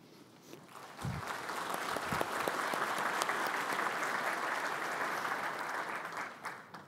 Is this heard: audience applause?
yes